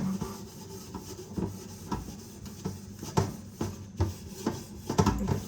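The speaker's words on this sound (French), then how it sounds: "Je viens mouiller mon éponge et je frotte." Wet sponge scrubbing a kitchen grill, a series of rough rubbing strokes at close range, uneven in rhythm and growing a little louder toward the end, with no voices.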